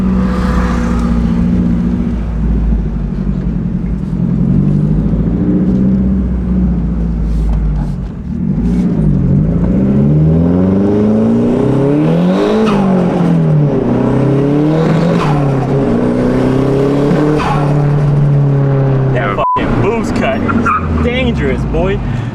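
A JDM car's engine revs while driving, its rising and falling engine pitch sweeping repeatedly under steady road noise, with people talking loudly over it throughout.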